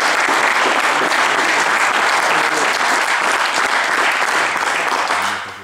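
Loud, sustained applause from a crowd, steady clapping that fills the space before fading out at the end.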